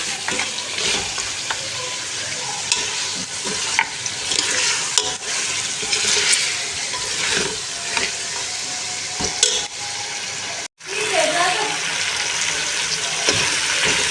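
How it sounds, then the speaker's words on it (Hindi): Finger-shaped pieces of taro root (arvi) frying in hot oil, a loud, continuous sizzle with occasional stirring clatter, one brief dropout partway through. "ये फिंगर शेप में जो अरवियाँ मैंने रेडी करके रखी हैं, अब ये इसी ऑयल में जो है ये फ्राई हो जाएंगी।"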